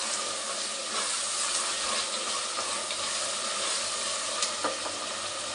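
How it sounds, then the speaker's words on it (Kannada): Tomatoes fry in a pan for soybean tomato bath, giving a steady, even sizzle and hiss at moderate level with faint stirring clicks and no talking. "ಇದು ಚೆನ್ನಾಗಿ ಫ್ರೈ ಆಗಲಿ."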